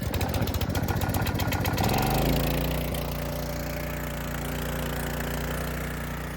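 A small firefighting pump engine runs close by, chugging with a fast rhythmic pulse. Then its tone shifts into a smoother, steadier drone as the pump takes up load, with no voices.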